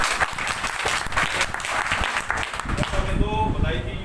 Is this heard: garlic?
no